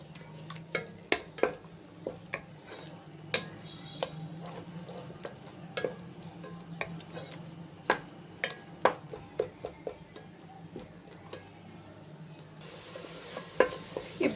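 Onion and spice base for a chicken gravy curry frying in a pan, with a soft low sizzle and repeated sharp ticks of a spatula scraping and tapping the pan at an irregular pace, close by.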